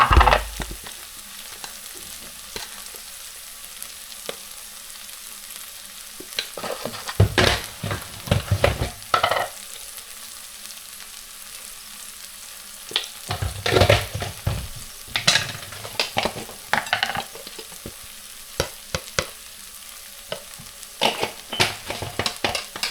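Ground spices fry in a hot pan of oil while squid cooks for dinner, giving a steady sizzle broken by repeated bursts of scraping as the mixture is stirred.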